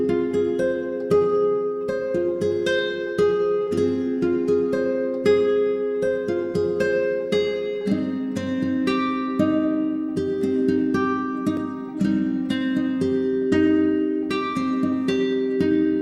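A pitched-down nylon-string guitar loops an arpeggiated minor chord, its plucked notes rolling in a steady repeating pattern, warm and close, with no voices over it.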